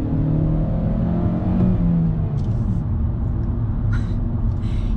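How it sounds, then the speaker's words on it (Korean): A new Hyundai Avante accelerates hard, heard from inside the car as a loud, continuous engine drone whose pitch climbs slightly with the revs, with no talking. "가속 페달을 짓누르는 순간에 이 엔진음이"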